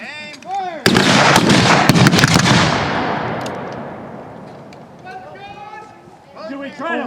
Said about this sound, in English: Flank them, boys, if you can. Go. Aim. Fire!